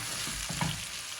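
Broiler chicken pieces frying in a pan with salt, stirred uncovered, giving a steady close sizzle with a few louder scraping stirs partway through; no talking.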